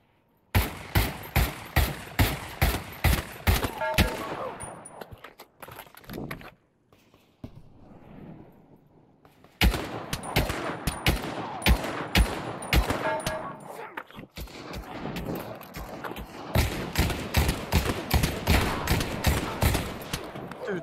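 Shotgun blasts ring out in the VR shooter Pavlov VR, a quick rhythmic string of loud shots at the start, a quieter lull, then more rapid firing in clustered bursts.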